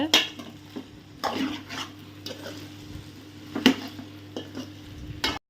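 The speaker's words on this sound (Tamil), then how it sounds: "இந்த முருங்கைக்காயை நல்லா இந்த மாதிரி கிண்டி விடுங்க" Drumstick (murungakkai) pieces are stirred in hot oil in a pan for a masala kuzhambu, with a steady low sizzle beneath repeated scraping and clinking strokes of a spoon against the pan.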